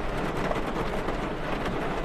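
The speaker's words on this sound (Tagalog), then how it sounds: "Masya Allah, naulan ng yelo." Heavy rain with hail pours down in a dense, steady roar, a constant wash of drumming with a low rumble and no talking.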